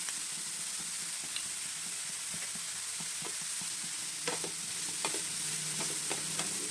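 Grated carrot frying in ghee in a pan for carrot halwa: a steady close sizzle runs throughout, broken by intermittent scraping stirs and soft clicks of a spoon against the pan, with no voices.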